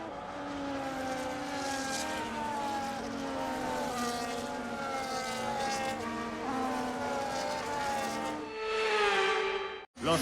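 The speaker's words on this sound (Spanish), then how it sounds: "Los coches regresan a la parrilla para ponerse en posición de salida" In the F1 25 video game, with Cadillac in My Team mode, race cars roll back to the grid in a steady layered engine whine. A single car revs up sharply near the end before a brief cut.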